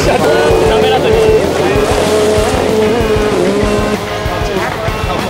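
Jet skis running practice laps at a JJSA All-Japan Championship final stage race at Keino Matsubara beach, a loud continuous engine whine with shifting pitch, mixed with voices nearby.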